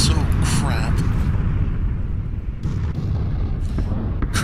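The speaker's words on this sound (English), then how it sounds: "I'll just taunt the artillery." Artillery bombardment in PUBG: a loud, continuous rumbling roar of distant blasts with a few sharper bursts layered over it, heavy low-end booming throughout, with someone talking over it.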